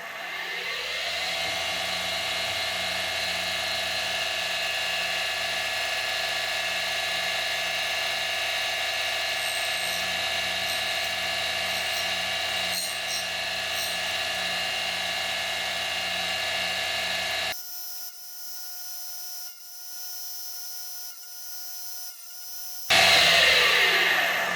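A restored Deckel SO single-lip grinder sharpens a D-bit with a steady, close motor whine and a fine grinding hiss that runs for most of the time, then cuts to a thinner tonal hum near the end.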